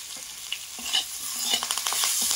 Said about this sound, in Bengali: এবারে এর মধ্যে আমি ক্যাপসিকাম ও টমেটোটা দিয়ে দিচ্ছি